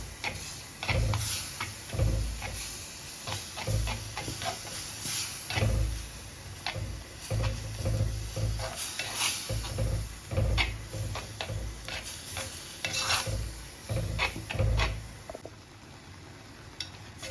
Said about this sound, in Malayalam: അരപ്പ് ചേർത്തതിന് ശേഷം ലോ ഫ്ലെയിമിൽ വെച്ച് നന്നായിട്ടൊന്ന് ഇതിനെ മിക്സ് ചെയ്തെടുക്കണം